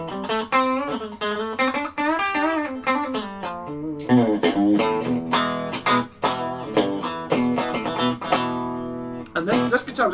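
A Squier Vintage Modified Stratocaster electric guitar played on its bridge pickup rings out with bright, overdriven tone through effects. Quick chords and single notes ring clearly and up close, with short pauses between phrases.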